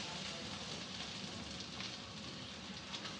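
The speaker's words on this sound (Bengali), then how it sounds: "আমি এই পেঁয়াজগুলোকে একটু বাদামি করে ভেজে নেবো" Sliced onions fry in hot oil in a pan until browning, a soft continuous sizzle and crackle like light rain, steady and close with no voices.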